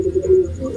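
High-flying pigeons in a loft give a low, steady coo that runs through the short moment, fairly close and clear, with no talking over it.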